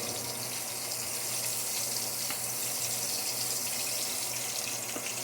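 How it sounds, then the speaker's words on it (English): Water runs steadily from a home kitchen tap while hands are washed during fried chicken preparation, a constant close hiss with a few faint clicks and no talk. "Washing my hands."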